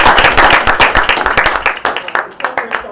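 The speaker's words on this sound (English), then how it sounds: "Let's give applause for" Audience applause in a library meeting room, loud and close, with distinct individual claps that start dense and thin into scattered, separate hand claps toward the end.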